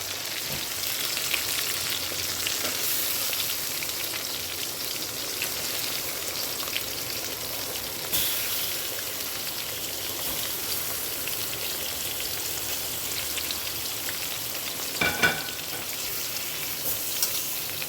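Green chillies and radhuni seeds fry in hot oil for a hilsa and pumpkin curry, giving a steady, dense sizzle throughout with a few brief clinks of a utensil near the end and no voices.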